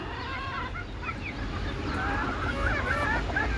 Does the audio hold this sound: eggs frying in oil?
no